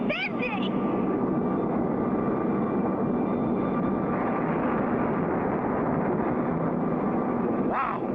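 A cartoon cargo airplane roars steadily through flight as its wings bend under strain, a dense continuous engine drone with brief voice-like sounds at the start and end.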